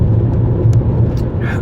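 Low rumbling road noise inside a moving car, steady engine and tire drone close by with a few faint clicks and rustles over it.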